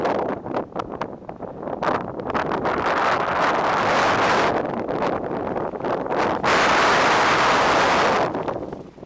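Strong wind buffets a microphone on a high mountain trail along the John Muir Trail in about 53-degree weather, a loud continuous roaring rush with brief gusty breaks near the start and steady blasts throughout.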